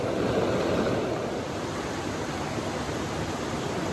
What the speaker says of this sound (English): That right there is a waterfall.